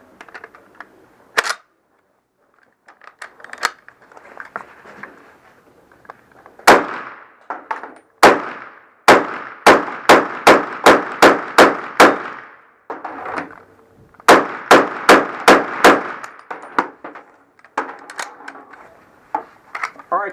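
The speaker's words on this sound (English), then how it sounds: "the Army came up with the U.S. Carbine Caliber 30 M1, or M1 Carbine, which fired the 30 caliber carbine round" M1 Carbine firing .30 caliber carbine rounds at a WWII demonstration, sharp loud cracks: a lone shot, then rapid strings of about eight shots each, with murmuring voices between the volleys.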